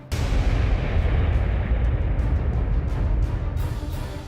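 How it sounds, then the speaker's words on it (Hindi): A loud, sustained explosive rumble rolls across hilly terrain, heavy low-frequency booming and crackle filling the whole stretch with no pause. "जोर का धमाका"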